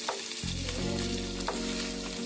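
Green chilies hit hot oil with cumin, star anise, cinnamon and cloves for Andhra-style country chicken biryani, and a loud crackling sizzle fills the pot over a low steady hum, with no talking.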